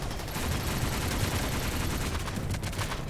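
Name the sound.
gunfire from shotgun and assault rifle in Rimworld video game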